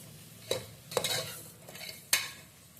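A spoon scrapes and stirs through bottle gourd in a pot, a few distinct strokes with a soft sizzle between them, close and fairly quiet.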